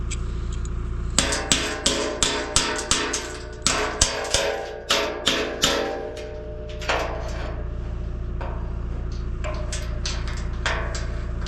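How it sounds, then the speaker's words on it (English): Repeated metal hammer blows on a part of a combine harvester, about a dozen sharp ringing strikes in an irregular rhythm over a steady engine or machine hum, with a few more hits near the end. "Yeah, this is a hammer."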